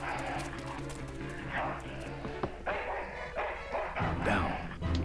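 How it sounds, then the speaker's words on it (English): A dog in a video game gives a run of short barks and yips against a busy game soundscape of footsteps and background noise, at moderate level with no clear speech. "That's one ill-tempered mongrel."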